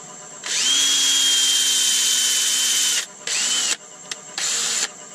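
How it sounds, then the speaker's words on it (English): A wood lathe spins an ebony bowl at about 500 RPM while its inside is sanded, giving a loud steady whine for several seconds that then cuts out and restarts in shorter bursts. "Just going to do a bit of sanding up on the inside"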